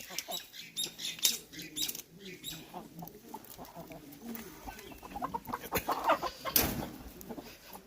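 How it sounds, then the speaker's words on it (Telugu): Chickens of several breeds clucking in coops and screened enclosures on a breeding farm, a busy mix of close and distant clucks and calls with a brief louder squawk near the end. "చూడండి ఇక్కడ గాబులలో కూడా ఉన్నాయి మనకి కోళ్ళు"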